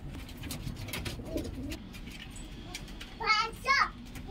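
Pigeons kept on a farm give low cooing calls, with two short, louder bursts of calls near the end over faint background chatter and children's voices.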